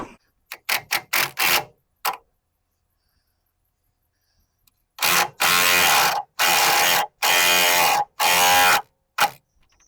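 A ball joint press tool being worked on a 2005 Ford F150 control arm: a quick run of short ratcheting clicks, a pause, then several longer, loud grinding ratchet bursts, close and without talk.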